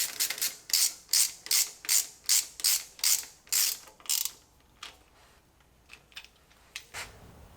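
A ratchet cranks 18mm drive bolts while a car body is lowered onto its frame: about a dozen loud, evenly spaced clicking bursts over four seconds, then fainter, sparser clicks trailing off.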